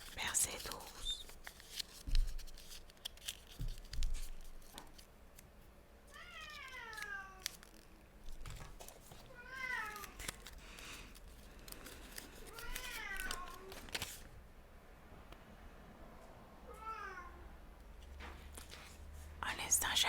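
Several cat meows rise and fall in short bursts spread across the stretch, fairly close, amid soft rustling and handling noises with quiet whispered speech in between.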